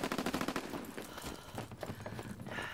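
Rapid M1 Garand rifle fire from the World War II shooter Call of Duty WWII, a quick burst of sharp close shots in the first second, then scattered battle noise with more distant gunfire.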